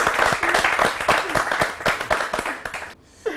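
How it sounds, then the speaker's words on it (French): A studio audience on the French talk show Le Grand Talk bursts into rhythmic, fairly close clapping with a few cheers, dense and lively for about three seconds before cutting off abruptly. "Ah ouais, ça s'applaudit"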